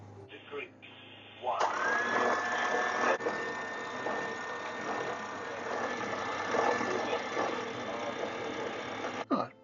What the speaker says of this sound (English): I've got the generator going for hot water for dishes